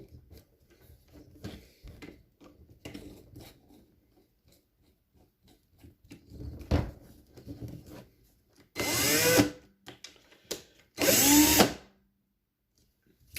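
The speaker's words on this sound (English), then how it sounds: "Somehow my drill started going in reverse." An electric drill running in reverse with a 1/16 bit, drilling a metal die-cast toy car post, runs in short bursts with quieter tapping and handling between, then two loud whirring pulls near the end.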